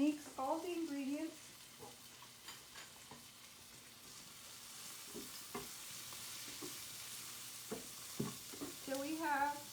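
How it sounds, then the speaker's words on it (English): Omelette ingredients with cooked chorizo, onion, tomato, cilantro and mushroom being stirred in a pan, soft scraping and faint sizzling at low level, with a voice speaking briefly at the start and end. "And I'm going to mix all the ingredients."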